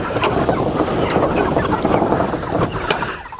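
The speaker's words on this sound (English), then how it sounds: "the chickens just walk on the ground as we move it forward" Pastured chickens cluck at Polyface Farm as their movable pen is pulled forward across the ground, with busy overlapping clucks and soft calls over a steady scraping, mechanical background noise.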